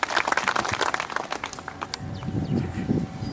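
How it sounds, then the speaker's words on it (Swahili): An audience at a police station upgrade ceremony in Nakuru gives a round of hand clapping for community policing officers, a dense patter of claps that fades toward the end as a lower murmur of voices rises. "Hawa kazi yao ni mzuri, ongeza makofi kwa Ngala."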